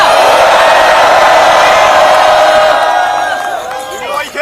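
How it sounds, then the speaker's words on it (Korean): At a political rally, a dense crowd shouts and cheers loudly and steadily, the roar thinning and wavering toward the close. "한국노총 류기삼 사무총장께 여러분 다시 한번 큰 박수와 함성을 부탁드립니다"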